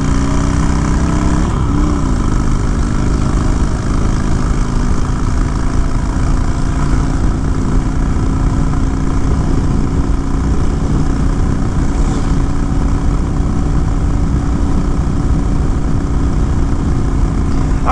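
Steady, close drone of a Honda Shadow ACE motorcycle cruising in third gear at about 3,500 RPM and 46 mph, an even engine hum with continuous road and wind rush.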